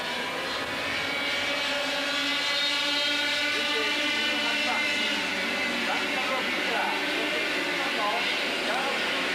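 Formula Super A racing karts with 28 horsepower engines, about 140 kilograms with driver on 6-inch tires, scream through S-bends at the 1993 World Cup in Japan, a dense high-pitched engine wail rising and falling steadily under commentary.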